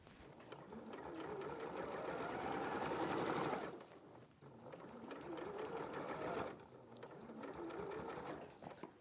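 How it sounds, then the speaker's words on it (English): Sewing machine stitching a fabric circle in light cream thread, running in long steady bursts with a rising and falling motor hum, one short pause and a restart, close and quiet with no talk. "that's my circle all sewed"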